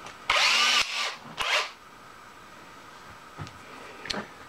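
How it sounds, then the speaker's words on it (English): Power tool grinding burrs off a 4140 steel part from a hundred-year-old water pump, two loud close bursts of high whining abrasion followed by a few faint ticks and scrapes. "first thing we got to do is get rid of those burrs there"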